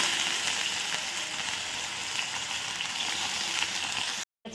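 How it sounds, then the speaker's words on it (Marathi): Slices frying in ghee on a hot tawa, a steady dense sizzle that holds evenly throughout and cuts out abruptly near the end. "याच पद्धतीने सर्व काप टाकून घ्यायचे, म्हणजे ठेवून घ्यायचे तव्यावर."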